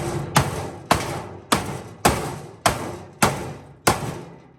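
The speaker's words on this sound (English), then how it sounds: "just beat that plastic to pieces" Eight heavy hammer blows strike the plastic of a clothes dryer being scrapped, at a steady pace, each a sharp thud with a brief decaying rattle, close and loud with no talking.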